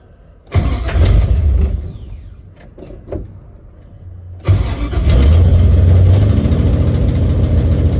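A 1969 Chevrolet Camaro engine cranks and catches, runs roughly and fades, then fires up again and revs loudly and steadily at close range, with no talk.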